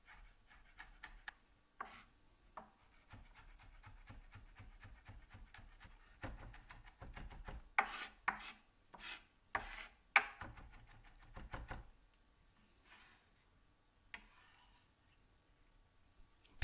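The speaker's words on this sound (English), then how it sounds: "Finally, chop up the garlic." A knife chops garlic cloves on a cutting board in a kitchen, a run of quick, light, rhythmic taps that cluster into a busier burst midway, fairly quiet and close, with no talking.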